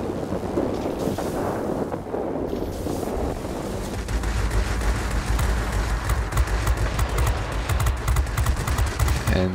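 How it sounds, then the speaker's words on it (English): Four Hispano cannons on a P-51 Mustang fire in an air combat video game during a bomber escort. Dense, rapid bursts of gunfire grow louder and thicker after a few seconds, over a constant rushing wind and engine roar. "the four Hispano cannons making short work of the ME410 there"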